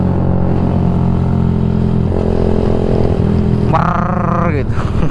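A Yamaha MX King 150 fitted with a UB Bpro racing exhaust roars loudly up close, the engine note climbing in a short rev near the end, with a rider speaking over it.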